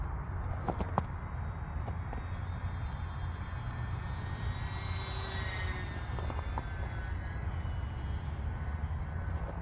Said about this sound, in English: It's a cool little airplane.